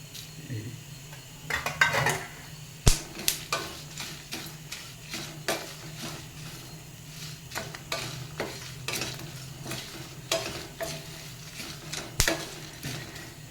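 Cumin seeds crackle and sizzle in a hot pan while a utensil scrapes and clinks against the metal in irregular strokes, a quiet close kitchen sound with no talking.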